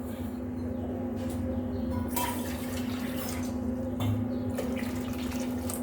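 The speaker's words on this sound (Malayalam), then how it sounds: "ഇനി ആവശ്യത്തിന് വെള്ളം നമുക്ക് ഒഴിക്കാം" Water pours into a pot in a steady rushing stream with a few brief surges, over a low constant hum.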